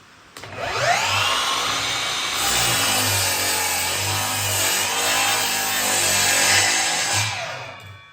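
A power saw cuts through wooden bench legs: the motor spins up sharply, whines loudly and steadily for about six seconds, then winds down, with no talking.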